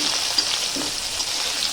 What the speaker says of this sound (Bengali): সেটা ভালো করে একটু ভেজে নেব